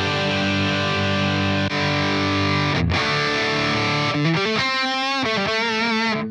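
An electric guitar played through the crunch amp model of a Line 6 POD Express, sustained overdriven chords ringing out, then a few picked notes with bends, loud and alone.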